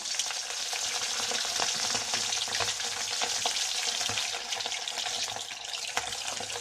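Chicken pieces deep frying in a modest amount of oil for chilli chicken, a dense, steady hiss and bubbling crackle throughout, close and even, with no speech.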